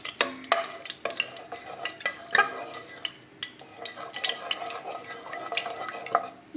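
Cinnamon and cloves crackle and sizzle in hot oil in a pressure cooker for kuska, with soft stirring clicks and scrapes, close and fairly quiet, without speech.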